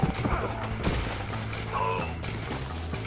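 A horse gallops in the Red Dead Redemption video game, with steady clip-clop hoofbeats over a busy game soundscape for about three seconds. A faint voice is audible.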